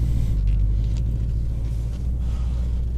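A 2018 Ford Mustang GT V8 idling and rolling slowly around a yard, with a steady, deep engine rumble heard from inside the car.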